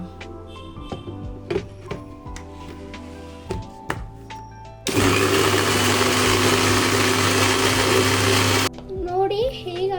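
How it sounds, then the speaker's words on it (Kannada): A kitchen mixer blends mango and cream into a smoothie, its loud steady whir starting midway and running for about four seconds before cutting off, with talk and household sounds before and after. "ಈ ಮಿಕ್ಸಿಗೆ ಹಾಕ್ಬಿಟ್ಟು"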